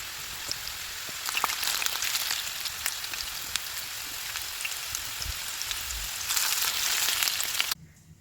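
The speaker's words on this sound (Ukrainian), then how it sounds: "Нарізану картоплю обсмажую на середньому вогні до золотавого кольору." Cut potatoes fry in a pan over medium heat with a steady crackling hiss and scattered pops, getting a little louder near the end before it cuts off. No one talks.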